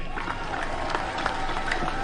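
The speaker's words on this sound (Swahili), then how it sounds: "Makofi kwake." A crowd applauds a county governor at a political rally in Mombasa, with dense steady clapping mixed with crowd noise that runs at an even level for the whole moment.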